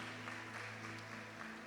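A church congregation applauding, a steady faint wash of clapping over a low sustained hum, continuous throughout and quite distant.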